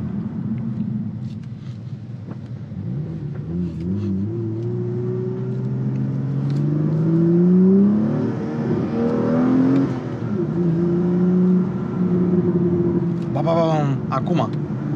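Engine of a manual BMW M2 with the S58 engine revving up and falling back, a deep rumbling drone that rises in pitch mid-clip, with speech over it.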